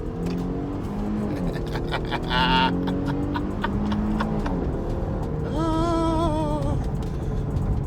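2018 Jeep Grand Cherokee Altitude SUV accelerating at full throttle, engine tone climbing steadily through rising pitch sweeps, heard from inside with a brief whining burst near the end.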